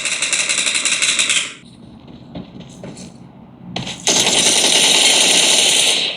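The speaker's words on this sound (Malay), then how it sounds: "Nasib baik kita sempat tembak balik." Rapid automatic gunfire from a mobile shooter game played on a Samsung Galaxy S26 Ultra rattles loudly, breaks off briefly into scattered shots, then resumes in a sustained, dense burst.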